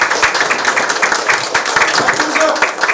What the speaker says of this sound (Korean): 네, 박수 한번 다시 쳐주시고요.